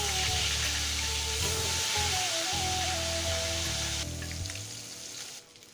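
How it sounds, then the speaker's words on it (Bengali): Steady, close sizzling of fish frying in hot oil, a dense crackling hiss that runs throughout and eases slightly toward the end. "এখন আমি এই তেলে আর একটুখানি তেল দিয়ে মাছটা ভেজে মাছটা রান্না করে"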